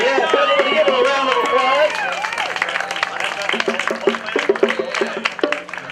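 A crowd at a car collector event claps and cheers loudly, the applause rising then tapering, with voices chattering over it.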